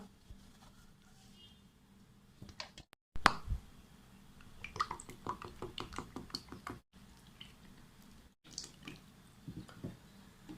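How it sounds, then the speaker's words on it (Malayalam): About 500 ml of coconut oil is poured into a frying pan holding ground neem leaf paste for homemade hair oil. Irregular plops, splashes and light knocks come in bursts broken by short silent gaps. "അഞ്ഞൂറ് എം എൽ വെളിച്ചെണ്ണയാണ് ഞാനിതിലേക്ക് ചേർത്ത് കൊടുത്തിട്ടുള്ളത്"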